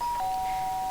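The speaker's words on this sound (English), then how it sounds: "Sharp sound of a doorbell pierced my sleepy haze and pulled me back to the real world." A doorbell in a video game gives one brief, clear electronic chime that drops slightly in pitch and holds steady over faint background hiss.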